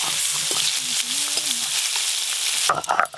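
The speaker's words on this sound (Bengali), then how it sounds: "প্রথমে ছোট মাছগুলো ভেজে নেব।" Small river fish frying in hot oil, a constant bright sizzle with a faint voice-like tone partway through and a burst of louder spattering and stirring at the end.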